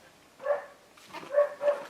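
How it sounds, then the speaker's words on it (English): A dog barks three times, faint and somewhat distant, with a short pause after the first bark and then two barks close together. "Somebody's dog's barking, I'm not sure what that's about."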